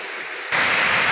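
A large volume of dam overflow water plunges into a creek, bursting in suddenly as a loud, broad rushing roar after a brief quieter moment.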